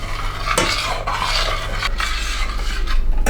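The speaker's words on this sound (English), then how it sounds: "We'll just keep stirring." Cream of rice stirred in a pot on the stove, a continuous close scraping swish of a utensil against the pot with a low steady hum underneath.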